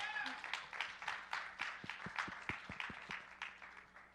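A quiet audience at a youth event on the SDG16 goal gives a judge from the UN Office on Drugs and Crime a light round of scattered claps. The claps are distinct but faint and distant, with some faint voices mixed in.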